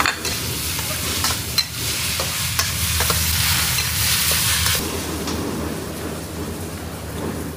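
Jiangxi rice noodles, not boiled first, are stir-fried hard in a hot wok, making a loud, dense sizzle with frequent scraping and tossing of the spatula throughout.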